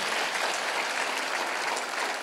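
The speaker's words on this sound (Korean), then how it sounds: "박수로 하나 더 해주세요" A church congregation at a Sunday worship service claps together, a dense, even burst of applause filling the room from start to finish.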